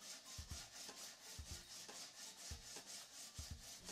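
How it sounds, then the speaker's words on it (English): Sandpaper of 80 grit wrapped around a wooden block scrubs along the edges of a wooden guitar body template, giving steady back-and-forth rasping strokes at close range with no voices. "I wrap an 80 grit sandpaper around a piece of wood and sand all around the edges"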